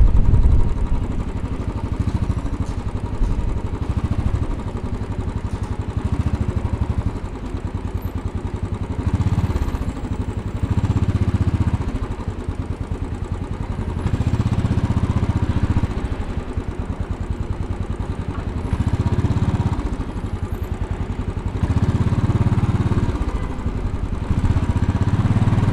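A motorcycle engine idles at a traffic light in midtown Manhattan, a close, continuous, slightly uneven rumble with a faint rattle and steady loudness that never fades.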